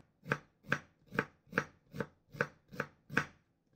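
A knife chops onion finely on a board for tolma stuffing, eight crisp, evenly spaced cuts falling about every half second, close and clear with no talk.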